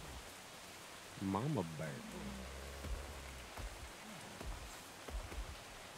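Soft, steady rain hiss from a nighttime scene in a video game, faint and continuous beneath someone speaking briefly.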